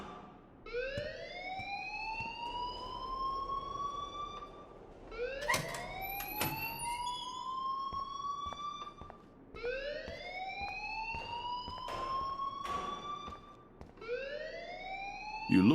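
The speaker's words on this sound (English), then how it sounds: "please turn off that alarm since that's your job." Electronic alarm in the video game Life is Strange, repeating rising siren-like whoops that sweep upward and hold, about one every four seconds, steady and fairly loud with no talking.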